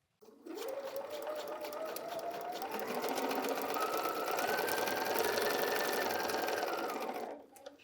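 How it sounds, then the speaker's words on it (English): A sewing machine stitching foundation paper piecing for quilting runs steadily for several seconds, a close, even mechanical whir and rapid needle clatter that starts abruptly and stops. "want to start a few stitches before my line so that when I hit that point, I'm already sewing"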